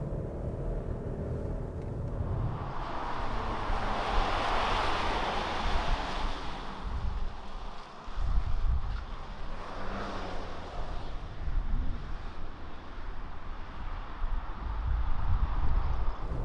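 Steady, subdued road and wind noise inside a 2020 Kia Sorento diesel SUV while cruising, a smooth low rumble with broadband hiss and no distinct engine note standing out.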